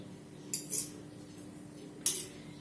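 Metal cutlery clinks against a plate while a vegetarian gluten steak with onion is cut, two short, faint bright scrapes separated by quiet.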